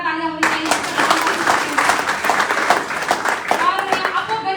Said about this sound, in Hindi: दोस्तों अगेन मैं चाहूंगी एक जोरदार तालियां होनी चाहिए।